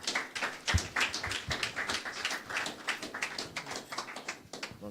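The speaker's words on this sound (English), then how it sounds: "Clap for him." An audience claps for a man receiving a washing machine as a prize at an investors' event, giving a moderate burst of scattered hand claps that stays steady throughout.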